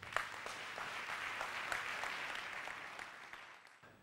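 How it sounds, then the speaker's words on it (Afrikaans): Church congregation clapping together in praise during an Afrikaans sermon, a soft, dense, distant patter of many hands that fades out toward the end. "Gee die Here aan dit klap"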